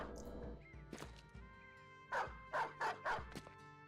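Dog barking in the video game Battle Brothers: several sharp, loud yips and barks, first scattered and then a tight run of four near the end, over a quiet game background.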